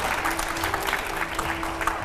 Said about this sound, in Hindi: एक बार पहले जोरदार तालियां मनोज जी की